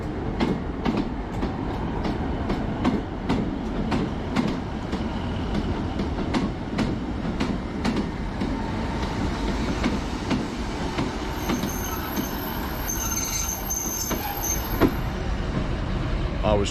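A train passes a shut level crossing in Britain, a steady loud rumble of wagons with repeated clickety-clack wheel beats and a brief high squeal near the end, voices faintly in the background.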